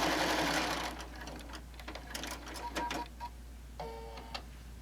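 A Bernina sewing machine fitted with a walking foot stitches rows across a quilted fabric panel, a soft whirring run at first that fades into scattered mechanical clicks and taps, close but fairly quiet.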